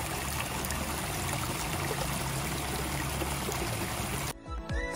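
Sulphurous hot spring water flowing at a volcanic crater, a loud, steady rushing stream that fills the scene and then cuts off abruptly near the end, leaving faint handling sounds.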